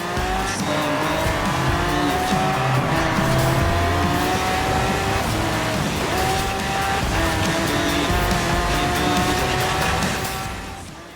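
A Lamborghini Centenario LP770-4 races in Forza Horizon 4, its engine roaring and shifting through the gears while tires squeal, loud and close throughout.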